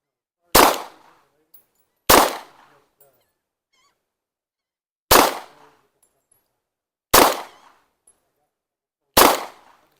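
Five sharp gunshots ring out one at a time with pauses of one to three seconds between them, each a loud crack with a short decaying tail, fired while zeroing guns with a different brand of bullet.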